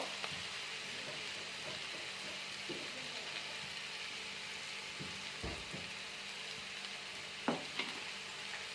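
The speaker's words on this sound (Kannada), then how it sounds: "ಇದನ್ನು ಇವಾಗ ಚೆನ್ನಾಗಿ ಎಲ್ಲ ಕಡೆ ಮಸಾಲೆ ಮಿಕ್ಸ್ ಆಗೋವರೆಗೂ ಕಲಿಸ್ಕೋಬೇಕು" Beans palya being stirred with ground masala of fresh coconut and coriander seed in a pan, giving a soft continuous sizzle with scattered scrapes and light knocks of the spoon, heard alone.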